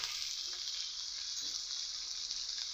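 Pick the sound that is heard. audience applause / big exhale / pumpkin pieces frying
pumpkin pieces frying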